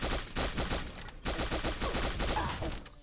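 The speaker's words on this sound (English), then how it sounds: "until someone pulled out a circus cannon" Circus cannon weapon firing in the shooter game Pixel Gun 3D: a rapid, dense burst of loud blasts in quick succession, a brief pause, then another sustained volley, close and unbroken by talk.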